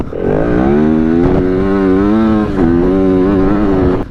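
A WR250F motorcycle engine runs loud and steady close by, its pitch rising briefly at the start and then holding an even, droning rev with a small dip near the middle, with no voices.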